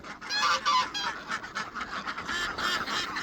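Several ducks on a farm pond honk and quack together at close range in a continuous noisy chorus.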